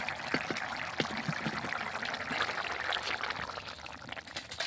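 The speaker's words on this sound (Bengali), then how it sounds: "বাটিতে আমি ঘুগনিটা ঢেলে নিলাম।" Cooked ghugni, a thick curried pea dish, is poured from a pan into a bowl, giving a soft, close, wet sloshing and scraping that stays faint and steady for a few seconds.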